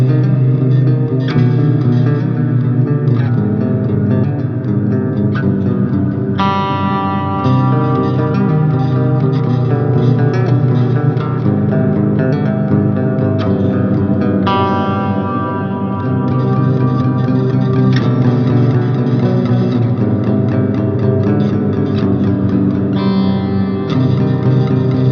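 Clean electric guitar through an amp modeler's clean patch in a live rig, with lush reverb and chorus-like shimmer, strummed chords and ringing notes sustaining steadily throughout, no voices.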